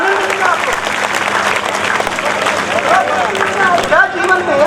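Sustained audience clapping at a Hindi kavi sammelan poetry gathering in Budhar, a dense steady applause from a crowd filling the whole moment with some voices mixed in.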